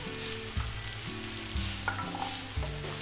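Onion, dried red chili, green chili, ginger and garlic sauté in an oiled pan with a steady close sizzle, broken by several scraping stirs of a spoon across the pan; no one speaks.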